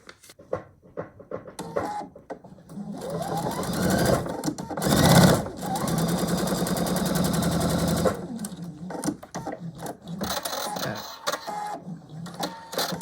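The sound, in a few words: sewing machine stitching quilt block seam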